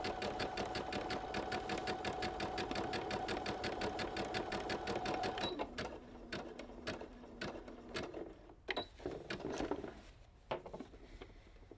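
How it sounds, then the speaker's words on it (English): A sewing machine runs a steady zigzag stitch over the raw edges of a patched trouser leg, with a fast, even mechanical rattle for about five seconds. It then stops, leaving a few sparse clicks and handling sounds. "just use an ordinary zigzag to replace that overlocking stitch that was there before"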